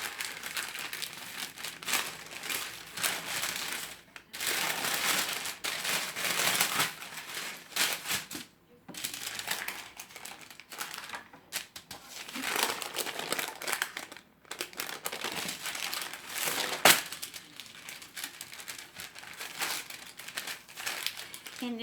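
Parchment paper is peeled slowly off rolled Christmas pinwheel cookie dough, crinkling and rustling in long bursts broken by short pauses, close to the listener.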